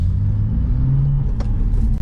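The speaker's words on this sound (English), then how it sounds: "I'll get you guys some exhaust. This is in the quiet mode." A BMW M2 idles with its exhaust in quiet mode and the valves closed, giving a steady low rumble at close range that stays even throughout with no revving, and no one speaks.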